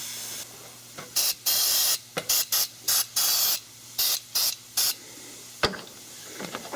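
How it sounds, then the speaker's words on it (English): Short bursts of alcohol-based carburetor cleaner spray hiss repeatedly onto washing machine parts, about a dozen quick blasts in an irregular rhythm, close and loud with brief pauses between. "you get to use this carburetor cleaner and just spray the holy heck out of it"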